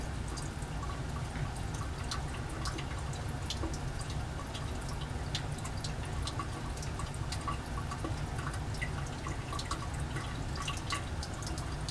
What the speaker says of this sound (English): So I'm going to speed up the drip rate just a little bit.